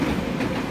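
A noisy train passes nearby with a steady low rumble and rolling clatter that holds at an even level through the whole moment.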